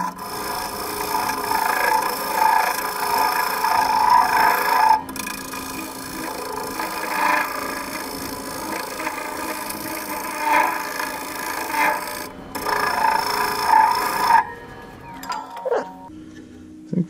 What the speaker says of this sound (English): I think from here I'm just gonna sand.